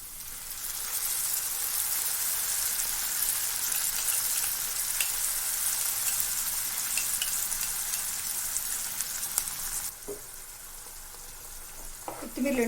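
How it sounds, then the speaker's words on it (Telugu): Coriander paste fries with onions in a pan for tomato coriander rice, giving a steady, moderate sizzle that runs throughout. Brief stirring scrapes come near the end. "కొత్తిమీరలోని పచ్చి స్మెల్ అంతా పోయేంత వరకు ఫ్రై చేసుకుందాం."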